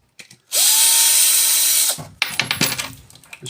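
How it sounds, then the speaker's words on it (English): A power drill backing screws out of a piece of timber, likely a school-made item, during scrapping for brass: a loud steady whine of about a second and a half, then a rattling clatter of loose parts and clicks. "Take out the screws."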